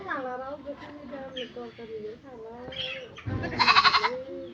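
A goat bleats loudly near the end, a sharp wavering cry following several seconds of people talking nearby.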